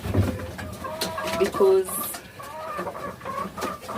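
Backyard laying hens clucking close by in short bursty calls, mixed under a person talking.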